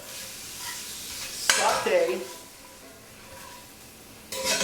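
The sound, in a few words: sauteing fat with olive oil in pots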